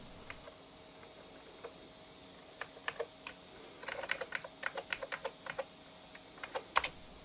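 Typing on the keyboard of a retro 486 PC: scattered clicky keystrokes, first sparse, then a denser burst of quick presses, close and alone with a faint steady hum beneath.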